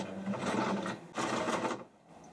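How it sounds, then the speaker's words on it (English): Sewing machine running a straight stitch through folded denim from upcycled jeans, two steady bursts of fast needle rhythm with a brief pause between, close and clear. "just sew a straight stitch"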